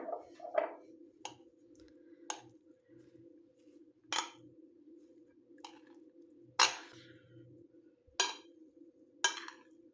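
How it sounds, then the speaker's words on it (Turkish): A spoon stirs spiced potato börek filling with black pepper in a bowl, producing sparse, separate clinks and scrapes against the bowl every second or two, close but fairly quiet against a steady low background hum. "karabiberimizi ekledikten sonra güzelce bir harcımızı karıştıralım."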